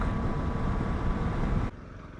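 A Honda CRF 300 Rally motorcycle rides through a small town, its engine and wind rush forming a loud, steady roar that drops off abruptly near the end.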